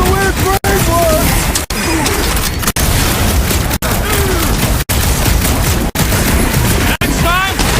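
Repeated gunfire and booming impacts from shooting enemies in Marvel's Guardians of the Galaxy, a dense loud barrage running steadily under game music and character chatter, broken by brief cuts.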